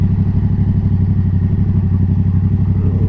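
A Yamaha XSR700 motorcycle slows with the clutch pulled and the brake applied, its engine giving a loud, steady, close low rumble with rapid regular pulsing and no talk over it.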